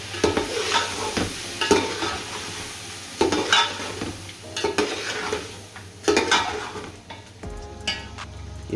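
Ginger, garlic and tomato paste are stirred in a frying pan, a spoon scraping and clattering in uneven strokes over a steady close sizzle.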